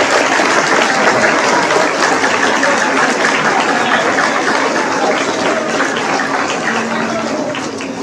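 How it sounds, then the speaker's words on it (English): Sustained audience applause for 8th graders at a school awards ceremony, a dense, steady wash of clapping that holds for several seconds and tapers slightly toward the end. "how about we just give a round of applause to the 8th graders"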